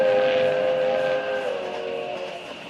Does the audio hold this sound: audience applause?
no